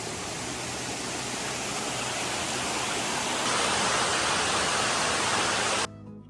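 Glen Falls waterfall in Highlands, North Carolina roars as a constant, dense rush of water, loud and broadband, swelling slightly midway before cutting off abruptly near the end.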